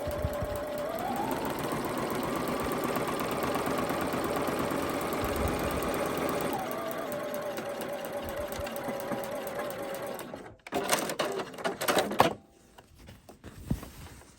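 Sewing machine top-stitching a seam on fabric, a steady close mechanical whirr that rises at the start and runs for several seconds, then slows and stops, followed by handling noises.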